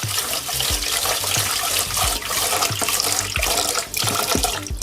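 Sticky rice is washed in water in a pot until the water runs clear, with continuous close sloshing and splashing and no voices.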